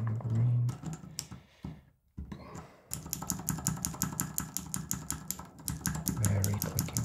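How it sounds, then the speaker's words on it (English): Rapid typing on a mechanical keyboard fitted with Gateron Green clicky switches, a dense run of sharp, close clicks after a brief pause, loud and continuous. "Very clicky."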